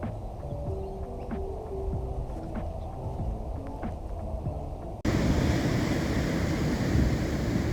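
Strong wind at an ocean beach near a river mouth: a low, steady hum at first, then a loud, continuous roar of wind buffeting the microphone takes over for the last few seconds.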